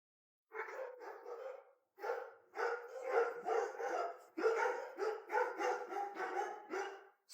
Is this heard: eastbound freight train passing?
no